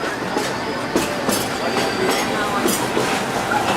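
Riding aboard the Walt Disney World Railroad at Magic Kingdom, the train rumbles along the rails with rhythmic clickety-clack wheel beats and faint squeals, close and steady.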